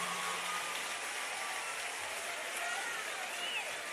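Faint, distant applause from an audience at a public university event at Unicamp in Brazil, a steady wash of clapping under room noise.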